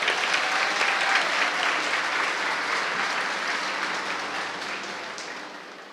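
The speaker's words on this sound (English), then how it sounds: "Give everybody a round of applause." Sustained audience applause at a ribbon skirt fashion show, a full, even roar of clapping that swells early and slowly tapers off over about six seconds.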